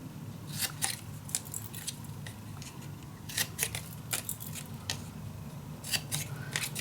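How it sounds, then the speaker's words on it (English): Scissors snip paper corners while trimming pages for a folio album, a series of crisp close cuts in uneven bursts over a quiet background. "next I am gonna cut this to the corners"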